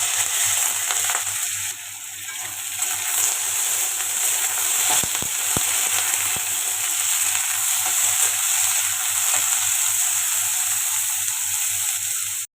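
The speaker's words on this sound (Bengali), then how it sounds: "আগে একটু আলু ভাজবো" Potatoes fry in a pan with a steady, loud close sizzle and hiss, broken by a few short scraping stirs, and no voices.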